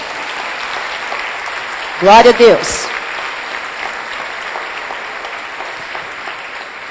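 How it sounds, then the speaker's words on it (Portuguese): A church congregation breaks into a short burst of clapping for about a second during a sermon, loud and close, right after a preacher speaks, with a brief spoken exclamation as it fades. "Então dê um aplauso ao Senhor."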